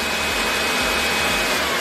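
Electrolux 800 stick vacuum cleaner running in turbo mode, a loud steady broadband whoosh with a low motor hum and a slight pulsing, close and continuous with no talk.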